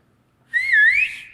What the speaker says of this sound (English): anybody here want to hear how I whistled?